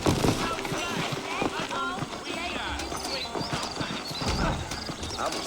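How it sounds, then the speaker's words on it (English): Horses gallop in the Western video game Red Dead Redemption, hooves clip-clopping in quick busy rhythm with an occasional whinny, close and loud, while someone talks over them. "I got the horses saddled up and ready out front."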